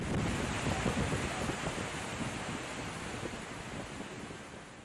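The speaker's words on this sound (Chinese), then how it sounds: "最近镜泊湖水位持续上涨，吊水楼瀑布出现三面溢流" Diaoshuilou Falls at Jingpo Lake in Heilongjiang, swollen by high lake levels, spills over its ring of lava cliffs on three sides into a plunge pool, a loud, unbroken roar of rushing water.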